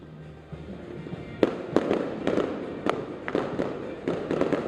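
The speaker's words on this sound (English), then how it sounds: "That fireworks show" Fireworks show over downtown Oklahoma City at an opening night celebration, with a string of sharp booming bursts every half second or so, crackling over a steady outdoor rumble, moderately distant and unbroken.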